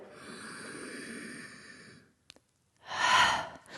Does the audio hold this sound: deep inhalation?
yes